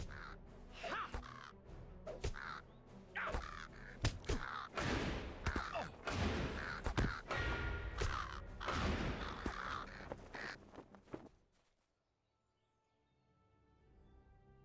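Crows caw repeatedly in the fantasy game LOTRO, loud harsh calls in quick succession mixed with thuds of combat, then fading to near silence with a faint tone.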